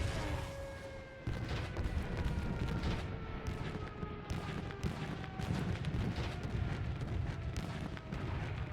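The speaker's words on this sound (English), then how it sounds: "This is base anti-aircraft artillery." Base anti-aircraft artillery fires in War Thunder: a dense, continuous rumble of booming flak bursts, steady and heavy, with a droning aircraft engine tone running beneath.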